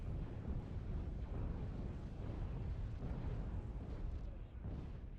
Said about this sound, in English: Has to fall back as gets hit by more and more gunfire and torpedoes here.